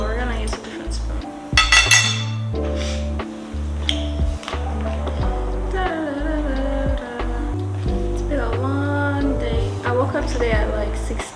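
A spoon clinks against dishes, with several bright, sharp taps over steady background music.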